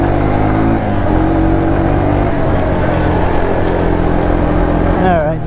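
1983 Yamaha Tri Moto 200 three-wheeler with a 200cc air-cooled engine and aftermarket exhaust running, a loud, steady close-up drone with a pitch shift early on and a voice briefly near the end.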